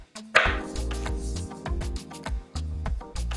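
Mushrooms, then broccoli and Brussels sprouts, being chopped with a knife on a board for a crispy vegetable chicken bake, giving a steady run of close, sharp knife taps with no talking.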